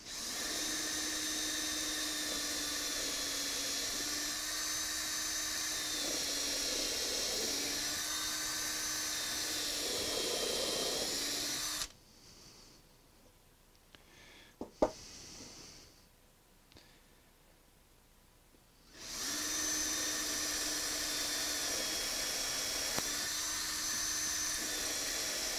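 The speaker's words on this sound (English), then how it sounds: "Just drill a pilot hole." A power drill whines steadily as it bores a pilot hole in a wood-turning blank, running for about twelve seconds, stopping briefly, then starting again at the same pitch.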